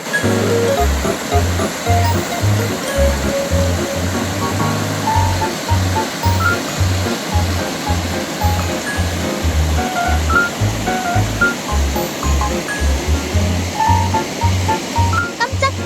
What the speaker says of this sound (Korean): 폭포구비가 정말 멋져.